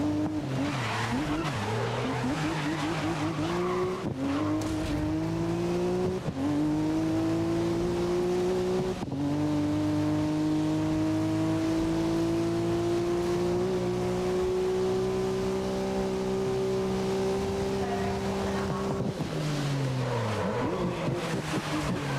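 A car engine revs hard and loud, its pitch climbing and dropping through several shifts before one long sustained rising pull, with a hint of tyre squeal.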